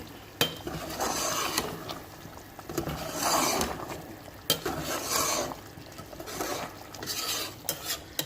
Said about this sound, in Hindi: अब इसको थोड़ा सा हिलाएंगे।